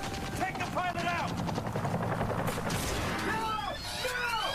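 A helicopter in the Battlefield Hardline video game thumps and roars steadily throughout, mixed with bursts of gunfire and voices talking over it.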